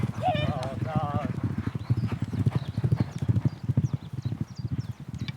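Steady rhythmic clip-clop of small horses' hooves dominates throughout, with a voice speaking over the start and occasional bright chirps above.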